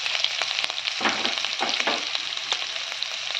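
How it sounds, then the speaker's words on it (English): Ginger, garlic, and red and green chilies sauté in hot oil, a close, continuous sizzle with two louder scraping stirs partway through and no voices. "Then I'll be adding the ginger, garlic and the red chilies, green chilies. Let it saute a little."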